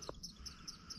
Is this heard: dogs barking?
no